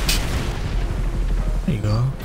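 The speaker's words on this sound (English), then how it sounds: "why do I only have one missile to shoot? Where's my barrage?" In Grand Theft Auto 5 Online, a missile launch lets out a deep, rumbling boom, followed by a short burst of crackling blasts, with someone talking briefly near the end.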